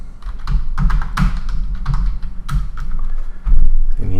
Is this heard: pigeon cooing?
no